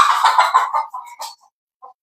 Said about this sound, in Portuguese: a galinha se assustando sozinho